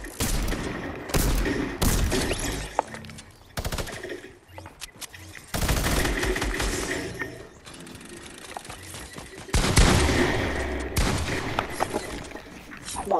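Rapid bursts of video game gunfire in a Fortnite Creative match crackle loudly in dense volleys with brief gaps between them, fast repeating shots dominating the mix.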